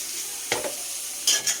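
Eggplant and potato fry in spices in a pan, with a soft sizzle under two or three quick scraping strokes and a brief splash-like burst near the end as tomato goes in; no speech.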